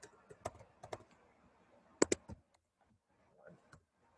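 Bursts of clicking keystrokes on a computer keyboard, scattered and irregular with a quick cluster near the middle, fairly close and moderately loud, then trailing off into near silence.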